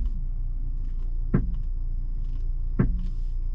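A Cadillac ATS with a front-end fault knocks twice while driving, two sharp thumps about a second and a half apart over a steady low road rumble inside the car.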